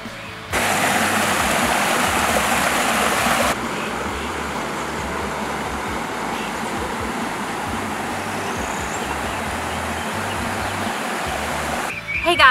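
A live creek flows steadily behind a country home in Mammoth Spring, Arkansas, a constant broadband rush of running water heard from a back porch, louder for the first few seconds and then settling into an even wash.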